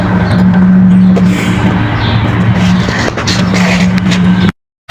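Outdoor air conditioner unit being troubleshot for not cooling, its fan running with a loud, steady whir and low hum throughout, then a brief cut to silence near the end.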